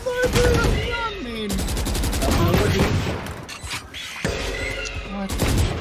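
Rapid automatic gunfire in the video game Valorant during a tournament round, with dense overlapping bursts sounding loud and close, under excited voices talking throughout.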